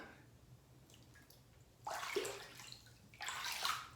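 Water runs and splashes as soap is rinsed out of a bowl, a faint, quiet trickle that swells into two louder gushing bursts near the end, with no talking.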